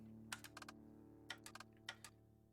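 Computer keyboard typing comes in short quick bursts of clicky keystrokes, with pauses between clusters, close and fairly quiet over a steady background hum.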